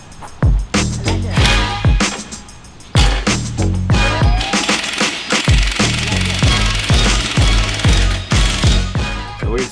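An impact wrench snugs down bolts on a Hellcat Redeye build in repeated loud, hammering rattling bursts, close up, with short pauses between runs.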